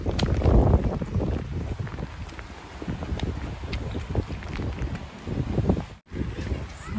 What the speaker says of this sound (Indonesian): Anginnya, hujannya kenceng banget.